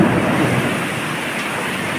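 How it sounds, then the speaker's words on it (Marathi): Heavy pre-monsoon rain in Maharashtra, India, roars steadily with a deep rumble of thunder mixed in, dense and loud throughout, no voices. "पहा, प्रचंड गडगडाट"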